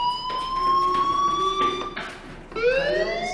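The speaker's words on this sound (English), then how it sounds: "do you hear that fire alarm?" A fire alarm rings loud and steady in the video game Life is Strange, a continuous electronic wail with sustained tones that dip briefly and then resume.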